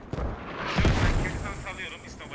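Mortar shells burst in the tactical shooter Squad during a tournament match, a sharp heavy boom followed by a rumbling, rolling tail that fades out slowly.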